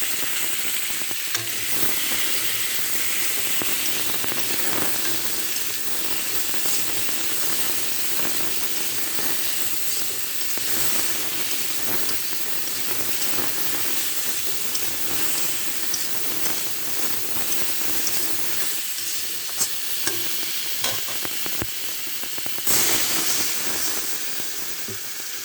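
Fish and potatoes frying in a pan with salt, turmeric and chili powder, a steady loud sizzle with occasional stirring scrapes throughout, no talking.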